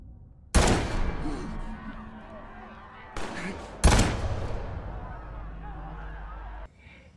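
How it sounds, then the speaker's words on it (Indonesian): Sharp loud gunshots burst out at intervals, each followed by a ringing, rumbling tail, like heavy weapons fire in a battle scene. "Di akhir pertempuran itu, Lee dan Park terkena tembakan dari seorang komandan pasukan Jepang."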